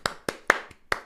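Hand clapping, five sharp claps close by, evenly spaced with short gaps between them, alone with no other sound.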